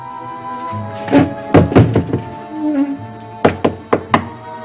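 Knocking on a door in a 1966 Dark Shadows soap opera scene: scattered thumps over a tonal background, then four quick, close, sharp knocks in a row.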